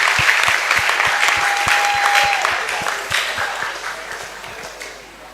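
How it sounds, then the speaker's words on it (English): Audience applause for Accra STEM Academy debaters at an inter-school debate, a steady crowd clapping that fills the room and gradually fades toward the end, with a faint sustained tone partway through. "Another round of applause for them,"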